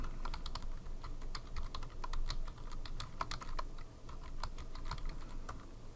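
Steady run of computer keyboard keystrokes while typing text for a PowerPoint slide, close and fairly even in rhythm, with no voices over it.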